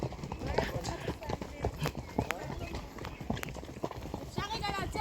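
Horse hooves clip-clopping steadily on a forest riding trail in Ben Shemen forest during a spring half-day ride, close and continuous, with a voice instructing riders over the hoofbeats.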